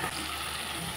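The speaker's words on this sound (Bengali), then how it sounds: "এখন দিয়ে দিচ্ছি মাছগুলো" Brief, dense sizzle as pieces of rohu fish hit hot spiced oil with tomatoes, a loud continuous frying hiss lasting about a second.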